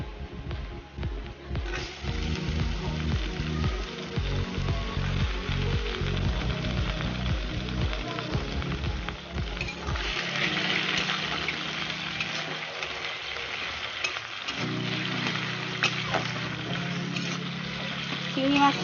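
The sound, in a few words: prawns frying in hot oil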